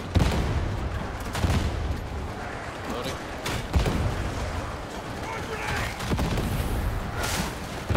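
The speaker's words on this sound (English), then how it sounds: "Let me do most of the range fire with the grenade launcher." A grenade launcher firing at a horde in Warhammer 40,000 Darktide on Damnation difficulty, dense booming gunfire and blasts rolling through loud continuous combat noise, with players talking over it.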